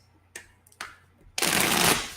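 Tarot cards shuffled by hand, a few soft riffles and taps followed by a loud, sustained rustling shuffle close by, with no talking.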